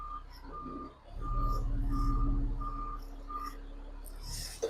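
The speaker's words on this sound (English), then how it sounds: "Then you'll put your vehicle in reverse." A tractor trailer's reversing alarm during a Class A pre-trip inspection: steady, evenly spaced beeps repeating over a low idling engine rumble, moderately loud and continuous.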